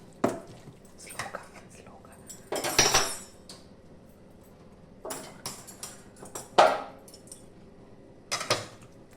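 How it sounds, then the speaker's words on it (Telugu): Gongura leaves and chillies being mashed with a masher in a pot, giving bursts of knocking, scraping metal-on-pot clatter in irregular clusters, moderately loud and close, with quiet pauses between strokes. "దీని కిందికి తిప్పుకొని గుత్తి అనే దాంతో ఇలా బాగా"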